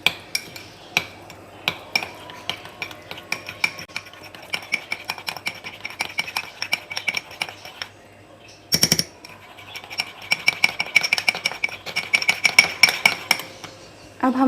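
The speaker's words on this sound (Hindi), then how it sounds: "अब इसको अच्छे से हम मिक्स कर लेंगे।" Butter and coriander garlic spread being mixed in a bowl, a steady run of close, light clinks and scrapes of a utensil against the bowl with a brief pause partway through.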